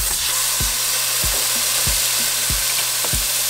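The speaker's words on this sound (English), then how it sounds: "we're going to add our meat." Ground beef frying in hot oil for red chile gorditas, a loud continuous sizzle and hiss close up, punctuated by regular low thumps of stirring roughly every half second.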